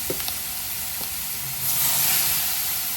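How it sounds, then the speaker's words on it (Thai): Pork with tofu and egg being stir-fried for basil pork, a steady sizzling hiss from the pan that swells louder past midway, with a few faint clinks near the start. "คราวนี้ก็ผัดผสมให้เข้ากันนะฮะ ผัดให้สุกครับ"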